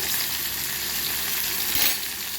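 Garlic paste sizzling in hot oil for a kochur loti dish, a loud, steady, close hiss of frying that swells briefly near the end.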